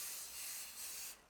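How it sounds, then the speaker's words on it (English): Cooking oil is sprayed from a can onto plastic wrap, one short, steady hiss that stops abruptly, close and fairly quiet with no talk. "I'm gonna spray the side that's gonna go on top of the dough a little bit"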